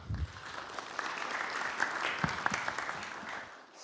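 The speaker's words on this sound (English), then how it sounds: "Round of applause for him." An audience at a scientific conference applauds as the speaker is welcomed, a moderate, even patter of many hands clapping at some distance that stops abruptly near the end.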